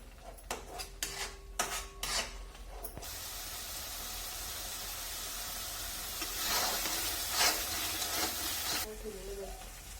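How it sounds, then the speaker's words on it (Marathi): Masala gravy of red chilli powder, onion-garlic masala, garam masala and coriander powder sautéing on low flame for a drumstick curry, a steady sizzle with scraping stir strokes, close and fairly loud, after a few knocks at the start. "गिरवी चांगली कमी गॅसवर परतून घ्यायची"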